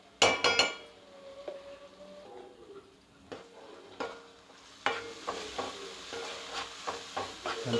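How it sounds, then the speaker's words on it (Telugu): Ginger garlic paste stirred in hot oil in a pan, with a few loud scrapes and clinks at the start, then a soft sizzle punctuated by intermittent stirring scrapes. "మంచిగా అల్లాన్ని నూనెలో కలుపుకోవాలి."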